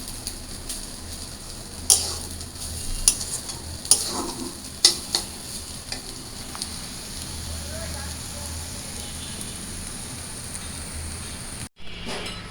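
Potatoes frying in a pan until reddish-brown, a steady hiss of sizzling oil with a few sharp clicks and stirring scrapes near the start, carrying on evenly throughout.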